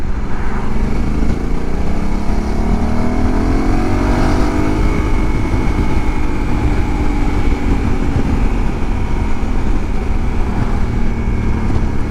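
A Honda Africa Twin motorcycle cruises along a road, its steady engine drone loud and continuous with wind rush, the pitch rising and falling gently as it travels, with no talk.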